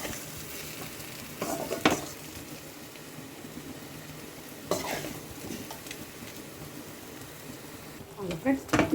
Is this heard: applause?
no